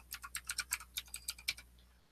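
Typing on a computer keyboard: a quick run of about fifteen crisp keystrokes in under two seconds, close and fairly quiet, with no voices over it.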